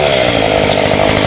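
A chainsaw roars at close range, loud and steady, as it cuts through a golden oak branch high in a 26-metre tree, with no talking.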